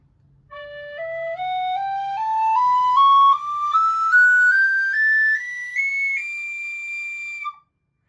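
A Tony Dixon DX004 D tin whistle plays a slow ascending scale from low D up to double high D, each clear note held briefly and stepping higher, solo and close.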